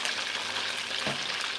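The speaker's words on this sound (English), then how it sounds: "So now I'm going to put this fish, because we are not frying here, but we just want to seal the fish." Fish searing in hot oil in a pan for a Creole stew, a continuous close, bright sizzle with a steady hiss throughout and a brief dull knock near the middle.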